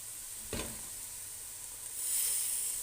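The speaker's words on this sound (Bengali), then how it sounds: "এই যে টমেটো দিয়ে দিছি, চামচটা লাড়া লাগছে টমেটোটা" Blended tomato added to a hot pan for a shrimp soup, giving a sudden sharp sizzle, then a quieter fry and a rising hiss of steam near the end.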